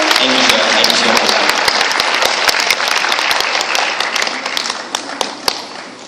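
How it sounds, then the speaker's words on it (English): Loud, dense clapping from a concert audience rolls on without a break, with a few sharp individual claps standing out before it tapers off slightly at the end. "Once again, a round of applause is for Miss Michelle"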